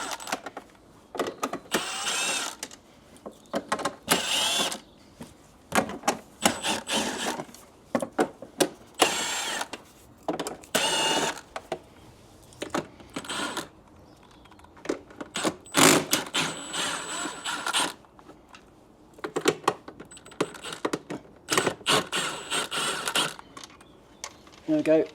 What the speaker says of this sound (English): I've literally now just got to undo these screws around the outside.